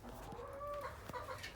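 Chickens cluck and murmur close by, a few short rising calls overlapping in a quiet yard.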